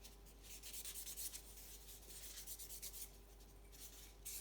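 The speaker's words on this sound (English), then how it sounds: "I love this little sanding block" Faint, close scratchy rubbing of a small sanding block worked over a 1:64 Hot Wheels Fiat 500 Abarth 695 model car, uneven short strokes continuing throughout with no talking.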